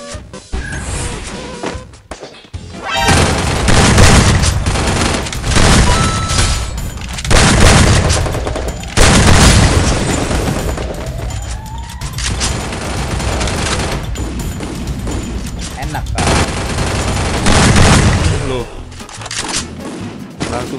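Heavy gunfire in a shooter video game with an AWM sniper rifle, loud repeated blasts and bursts rolling through a dense game mix, with voices talking over parts of it.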